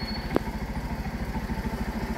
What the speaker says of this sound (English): I got a tuk-tuk just parked there as I was about to take pictures.